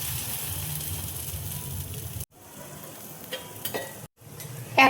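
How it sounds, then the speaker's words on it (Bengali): A bread slice dipped in batter sizzles in melted butter in a frying pan, a steady crackling hiss that briefly cuts out twice, with a louder pop near the end. "এবার মাখন মেল্ট হয়ে গেছে। এবার আমি ফ্রাই প্যানে দিয়ে দিচ্ছি।"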